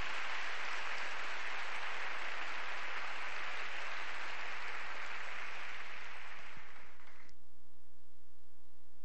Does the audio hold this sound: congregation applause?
yes